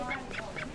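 A duck quacks three times in even succession, short nasal calls at moderate distance, fairly faint over a soft background.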